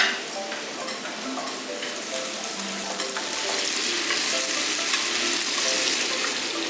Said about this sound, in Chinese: 豆腐让它煎